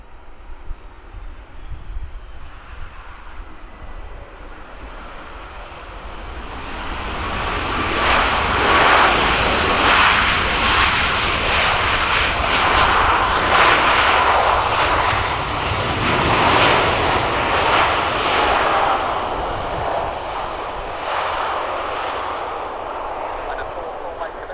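An airliner departs London Stansted Airport on runway 22, its jet engines swelling from a distant rumble into a loud, sustained roar that holds steady as it climbs away.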